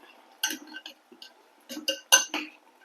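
A spoon clinks against a pot in a few light, irregular taps while turmeric powder is stirred into a ground cucumber mixture for vellarikka pachadi, with no voices.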